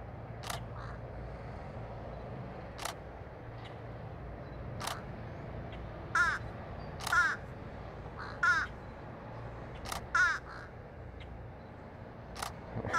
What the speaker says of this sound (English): Can hear this bird above me.